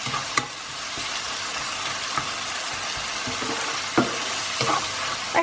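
Spices being stirred into a curry masala with fresh chilies in a pan, a steady soft sizzle of oil under intermittent scraping knocks from the spoon, close and alone with no talk.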